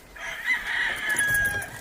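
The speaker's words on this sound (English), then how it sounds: "Here's some old Gilmore hens and a younger Gilmore stag." Gilmore gamefowl rooster crowing once in a drawn-out call, fairly close and clear, on a farm where old Gilmore hens and a younger stag are kept.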